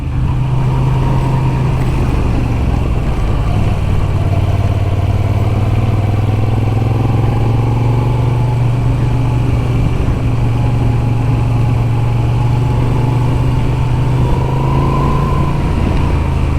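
A Moto Guzzi V7 Sport motorcycle engine drones steadily and loud up close through a continuous ride, its low throb holding a smooth, even tone with slight pitch swells as the bike pulls through the mid-range.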